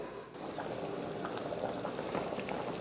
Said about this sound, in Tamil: பாருங்கள் நல்லா கொதிச்சிருச்சு.